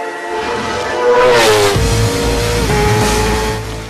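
A Kawasaki motorcycle engine revs loud and close, rising in pitch then holding a strained, steady roar before easing slightly, with no talk.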